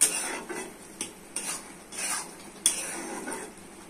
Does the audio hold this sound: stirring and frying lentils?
yes